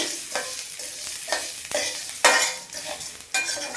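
Tamarind and garlic frying in a pan for moringa chutney powder, a steady close sizzle broken by several sharp scrapes of a spoon stirring against the pan, with no talk.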